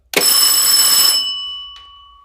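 Electric bell rings loud and steady for about a second, then cuts off and fades, signaling that an automatic transfer switch has moved the supply over to inverter backup power; a faint click follows.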